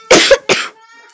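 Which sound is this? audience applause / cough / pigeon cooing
cough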